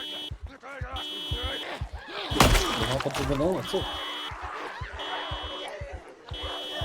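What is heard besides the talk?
car alarm going off in video game Project Zomboid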